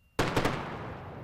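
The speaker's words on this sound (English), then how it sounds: "a sonic boom passes across the Florida Space Coast as the Falcon 9 first stage" A sonic boom from a SpaceX Falcon 9 first stage returning to land at Cape Canaveral on the Florida Space Coast: a sudden sharp double crack followed by a rumbling fade, distant but distinct.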